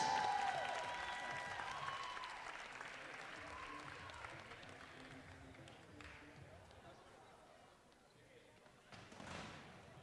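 A crowd at a women's college basketball game applauds a basketball official being honored with a regional award. The clapping is loudest at the start, then fades into a murmuring gym with a brief swell near the end.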